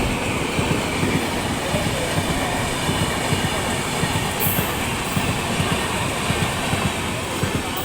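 An Ahmedabad-Darbhanga express train passes through Suremanpur Junction station in India. It is loud and close: a continuous heavy rumble with a steady, rhythmic clatter of wheels over rail joints.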